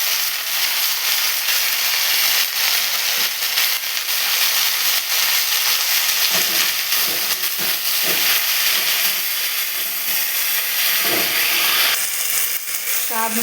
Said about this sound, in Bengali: এবার শাকগুলো আমি চাপিয়ে দেব।